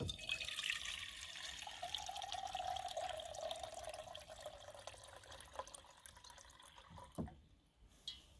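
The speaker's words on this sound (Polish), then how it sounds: "Trzeba wody nalać." Water is poured in a steady stream for several seconds, with a splashing trickle that fades out and ends in a few faint drips, heard alone without any talk.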